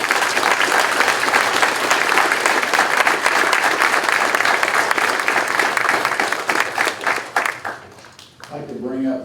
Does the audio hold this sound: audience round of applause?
yes